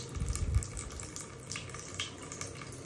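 Water runs from a bathroom faucet and splashes into the sink, a continuous rushing hiss with a few louder splashy bursts early on, heard up close with no voices.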